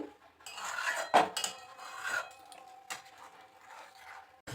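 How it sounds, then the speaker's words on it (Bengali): Jaggery is stirred into boiling milk in a metal pot with uneven scraping and clinking of a spoon against the pot, loud near and fading between strokes. "এবার গুড় গুলে যাওয়া পর্যন্ত একটু নাড়িয়ে নিতে হবে দুধের সাথে"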